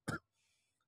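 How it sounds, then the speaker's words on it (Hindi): A single short, loud cough from a man with a persistent cough, close to the mic, followed by near silence. "सॉरी खांसी बहुत ज़्यादा आ रही है मुझे"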